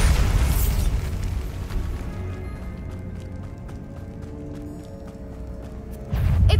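A Bombarda spell in Hogwarts Legacy sets off a booming explosion at the start, followed by a low rumbling tail with scattered pops and clatter, then a fresh burst of noise near the end.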